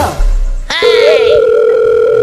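A telephone dial tone plays as a call is placed: a steady, loud continuous tone starts abruptly after a brief stretch of background noise and holds unbroken to the end.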